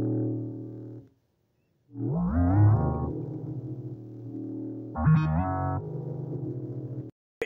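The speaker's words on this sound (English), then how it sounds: "Does your 808 sound like this?" Distorted 808 bass notes made in FL Studio boom and overlap in two long sustained phrases separated by a short silence, thick and buzzy with a final abrupt cut-in at the end.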